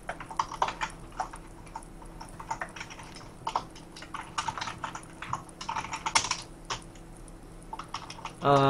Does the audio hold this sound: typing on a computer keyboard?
yes